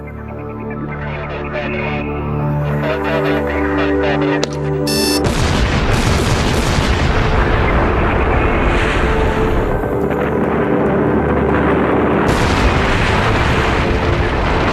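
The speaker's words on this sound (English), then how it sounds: "The blast was like a firework." A dynamite blast opens the channel at Itaipu Dam on the Parana River: a sustained low hum gives way to a sudden loud boom, then a long roaring, rumbling wash of debris and rushing water that stays loud to the end.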